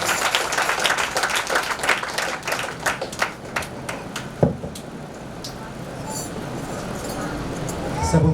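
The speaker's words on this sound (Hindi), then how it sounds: "आइए जोर से ताली देकर" An audience at a Bible study meeting in Rourkela claps to welcome a speaker, a dense patter of applause over the first few seconds that thins out, with a sharp knock and a voice near the end.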